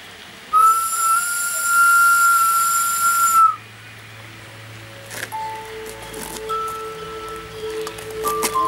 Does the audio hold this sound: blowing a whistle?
yes